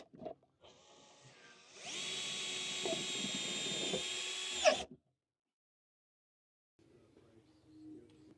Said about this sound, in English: I started putting the screws in, and then just continued to check as I went through putting the additional screws in.